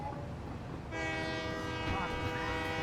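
A train whistle in the game Satisfactory sounds from about one second in, a sustained tonal blast held steadily to the end over low rumbling rail noise.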